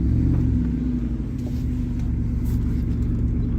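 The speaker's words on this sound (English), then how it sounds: "That engine sounds really sweet." A supercharged Jaguar engine runs steadily while the car drives, producing a smooth, low, even rumble with no sputter, heard from inside the car at moderate volume with no voices.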